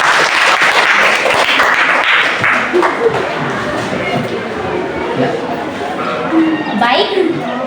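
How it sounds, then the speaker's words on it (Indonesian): A classroom audience claps after a group presentation, a dense burst of applause that gradually thins and fades. Voices and scattered chatter mix in near the end. "Oke, berikan aplaus dulu."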